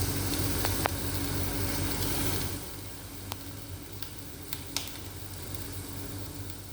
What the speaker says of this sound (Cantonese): 茄子開始咧，我哋咧就要煎下另外一邊咁樣咯